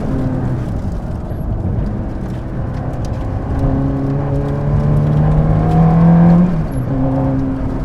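A New Stratos sports car engine revs hard in second gear, a rising whirring howl that climbs steadily and peaks near the end before easing, loud and close from inside the car.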